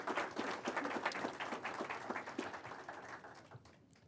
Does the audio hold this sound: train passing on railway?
no